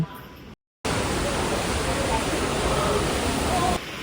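A Greek-style waterfall outside a shopping mall in Busan on a rainy day gives a steady, dense rush of falling water, loud and close, with faint crowd murmur beneath it.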